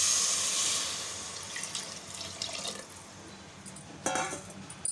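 Water poured into rice and toor dal for a Kongu-style cooking pot, a soft continuous splashing pour with a brief stronger gush near the end, close and alone without talk.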